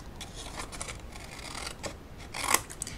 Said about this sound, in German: Und dann nehmt ihr euch eure Schere